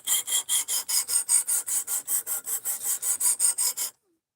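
A blade edge is stroked on a sharpening rig in about seventeen quick, evenly spaced rasping passes, close and bright, stopping abruptly before a short silence.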